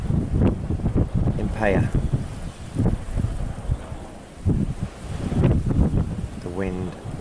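Strong gusting wind driving a wildfire near Peyia, Cyprus, buffeting the microphone in rough, uneven bursts while someone talks over it throughout.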